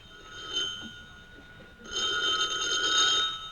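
An old-time telephone bell rings in a vintage radio comedy set in a tavern: a short ring, a pause, then a longer, louder sustained ring, with no talking.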